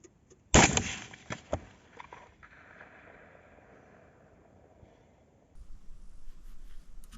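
One sharp gunshot, fired through three layers of glass, rings out, then a decaying echo lingers; a few light clicks follow and low background rumble rises near the end.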